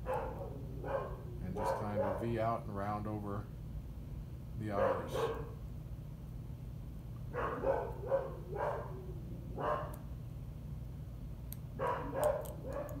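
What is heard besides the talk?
dog barking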